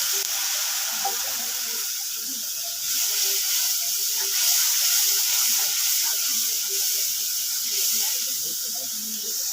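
Spices fry in oil in a pan with a loud, dense, steady hiss that swells slightly midway, with faint scraping from stirring underneath.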